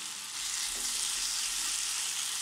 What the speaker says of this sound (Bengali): টেবিল চামচ রসুন কুচি দিয়ে দিলাম